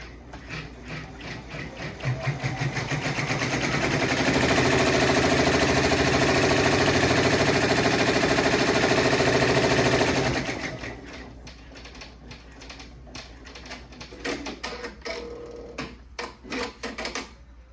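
An embroidery machine sews a placement stitch for a soccer ball coaster, a steady rapid mechanical rattle that swells loud for several seconds, then stops and leaves quieter intermittent clicks and taps.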